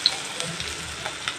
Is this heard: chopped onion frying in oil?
yes